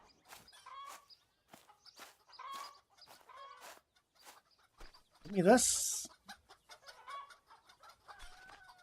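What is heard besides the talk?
chickens clucking in video game Farmer's Life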